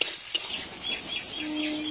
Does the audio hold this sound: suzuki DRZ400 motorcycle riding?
no